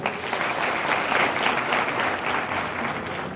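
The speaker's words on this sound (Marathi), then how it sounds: "एक वेळा तुम्ही सूरज भाऊसाठी टाळ्या होऊ द्या" Dense, sustained audience applause at an outdoor utensil-distribution event for construction workers, many hands clapping together at steady loudness for a few seconds, close and without a break.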